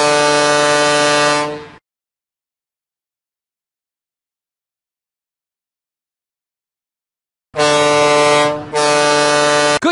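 Toy fire engine horns in a Curious George video game: a loud, sustained electronic horn blast opens, followed by silence, then two more loud blasts near the end, the last briefly broken.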